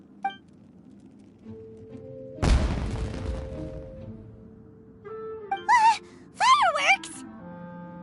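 Fireworks explode in a video game with a single loud, broad boom that crackles and fades over about two seconds, followed by quieter tones and animated voices reacting.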